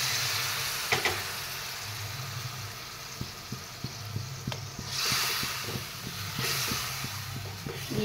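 Water poured into a hot pan of fish and potato curry sizzles and hisses at low level, with soft stirring clicks and scrapes tapping in a loose rhythm through the middle.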